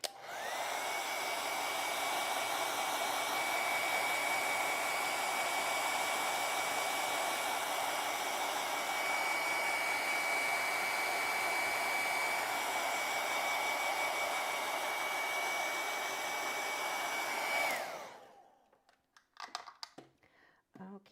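A hair dryer blows on acrylic paint in a bird painting tutorial. It roars loud and steady for about eighteen seconds, then switches off and winds down, leaving a few faint clicks.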